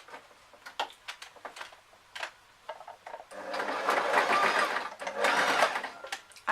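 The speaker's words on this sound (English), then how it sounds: "I'm going to sew that." A domestic sewing machine stitches a seam on a vest top, starting with scattered ticks and short bursts, then running in two sustained, loud whirring stretches with a brief pause between them.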